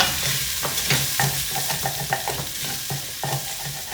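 Onion, garlic and Italian herbs sizzle steadily in a hot pan while a spoon scrapes and taps repeatedly, producing an irregular rhythm of close stirring and tossing sounds.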